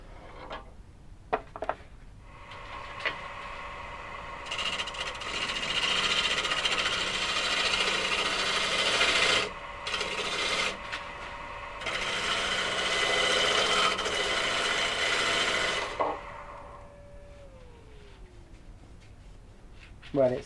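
A gouge cuts a burr elm platter spinning on a wood lathe, making a loud sustained rough scraping whir in long passes with brief pauses, while someone talks over it.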